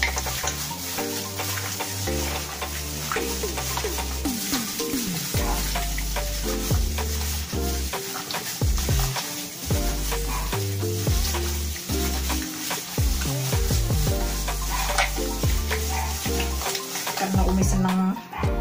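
Food frying in a pan with sweet soy sauce is stirred continuously, loud steady sizzling under repeated scraping strokes of a spatula, with music-like tonal sounds running throughout.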